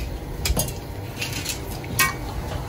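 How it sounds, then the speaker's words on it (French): A utensil scrapes and clinks against a pot while tomato and bell pepper are crushed for a beef broth, with soft irregular knocks and scraping and no talking. "On va écraser le poivron"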